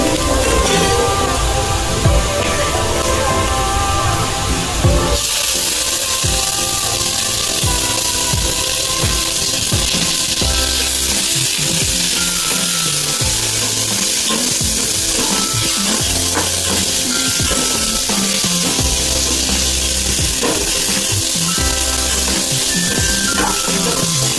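Tomatoes go into a pan of sautéed onions for a quick paneer bhurji, raising a loud, dense, steady sizzle of frying that continues unbroken throughout, with no talking.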